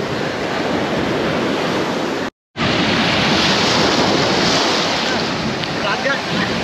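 Sea waves at a shore in the Philippines wash in a continuous loud roar mixed with wind buffeting the microphone, with a brief dropout in the middle.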